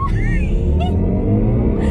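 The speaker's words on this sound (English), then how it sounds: "So I'm going to put the car into Sport Boost, which is the most high-powered version." A BMW i4 M50 electric car accelerates hard in Sport Boost mode, giving a loud, continuous low rumble with faint rising whine tones. No voices are heard.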